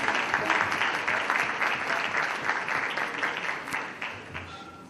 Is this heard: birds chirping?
no